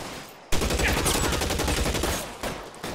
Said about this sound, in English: Oh, he shot a cop.